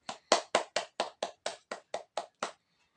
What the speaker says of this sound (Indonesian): kita beri tepuk tangan untuk kelompoknya Dina